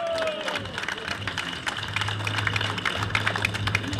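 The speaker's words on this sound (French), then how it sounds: "On peut les applaudir quand même." An outdoor crowd at a Périgord walnut festival applauds local producers with scattered, moderate clapping that runs steadily over a low background hum, with some crowd murmur mixed in.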